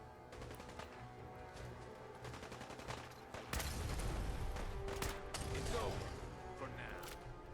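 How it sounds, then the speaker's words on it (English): Gunfire in the game Fallout 4: rapid bursts and scattered shots crackle through a busy battle, growing louder and denser midway, with faint game voices mixed underneath. "Who's firing at who?"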